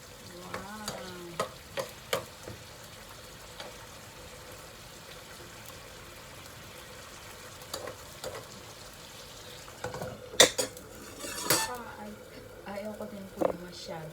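Pork liver sizzles and fries in a pan on a home stove, with repeated scraping stirs, a background crackle and short bursts of louder frying near the end, while someone talks over it.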